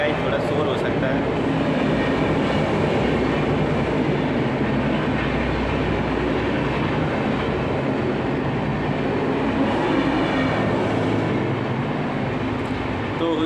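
A train passes nearby on the tracks, a loud, continuous rumble and clatter that fills the whole stretch, with someone talking over it.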